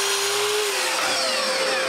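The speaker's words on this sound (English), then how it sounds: "it's time to go back to the CNC and cut a curved top" CNC machine cutting a curved walnut top piece for a clock case, a loud steady high-pitched whine of the spindle with the bit biting into the wood, close and continuous.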